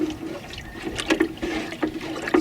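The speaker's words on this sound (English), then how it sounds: "So the best way to stir ingredients like this is to have kind of a back and forth motion." Liquid ingredients are stirred back and forth in water in a garden setting, giving soft sloshing and trickling swishes that come in uneven pulses, close and moderately quiet, with no talking.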